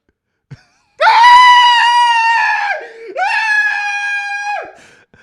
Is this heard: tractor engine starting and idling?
no